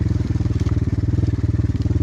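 A dirt bike motorcycle engine idles close by with a rapid, regular thumping pulse, loud and steady for the whole clip.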